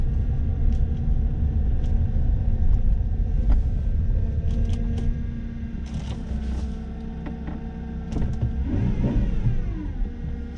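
A Lexus SC300 engine idling with a low steady rumble and a faint slipping belt whine, close and continuous, with brief squealing rises near the end.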